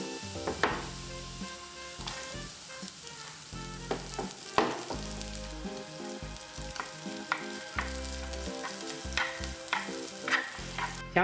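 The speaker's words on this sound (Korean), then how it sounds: "마늘이 익으면 양파를 넣고 볶아주세요." Minced garlic and onion are stir-fried in oil in a frying pan. A steady sizzle runs throughout, broken by scraping and clattering stirs, with soft background music underneath.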